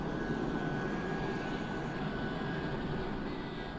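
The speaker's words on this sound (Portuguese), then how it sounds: "trata-se de aviões de apoio às organizações humanitárias" A humanitarian support airplane flying in Angola gives a steady, distant engine drone with a broad low rumble that holds constant throughout, no voices present.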